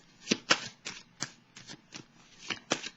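Tarot cards being handled and laid down on a table: a series of soft, close papery taps and slides in an irregular rhythm, about nine distinct touches over a few seconds, with no voice.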